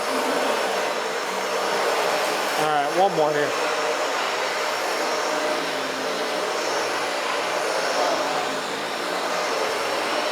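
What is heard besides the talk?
vacuum cleaner running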